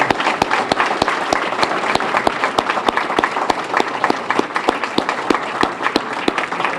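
Attendees at a longevity awards ceremony applaud the awardees, loud, sustained clapping from a crowd with sharp, rhythmic claps standing out near the microphone, unbroken by speech.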